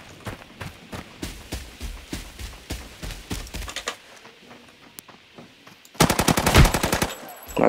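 Rapid automatic gunfire in the online shooter Arena Breakout, loud bursts of close shots in the first four seconds, a quieter lull, then a dense, sharp volley near the end.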